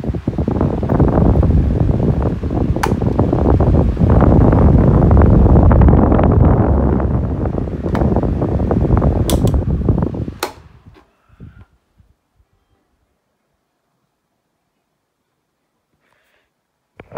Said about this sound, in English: Stirflow has a quick spin down, even though I give it oil.